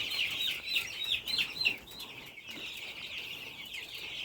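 Eleven-day-old Lohmann Brown chicks clucking and cheeping close by, a busy cluster of soft chirps and clucks that is livelier at first, then settles to quieter peeping.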